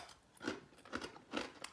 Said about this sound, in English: You guys can hear that crunch